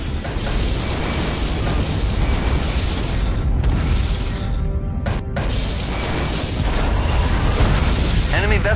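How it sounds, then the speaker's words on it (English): A Borg vessel blows apart in a Star Trek space battle game, with a loud sustained rumbling explosion and crashing debris over continuous engine and weapon noise, and a voice speaking partway through. "Borg vessel destroyed."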